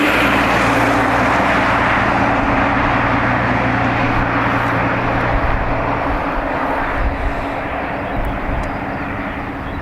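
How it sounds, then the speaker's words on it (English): An airliner takes off from a runway at Dublin Airport, its engines giving a loud, steady roar that fills the whole stretch and eases slightly toward the end as it moves away. "Runway 2 right, you clear for takeoff."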